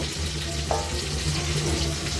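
Marinated chicken, rubbed with turmeric and salt and with its legs tied with thread, fries in a pan with a continuous close crackling sizzle and no talking.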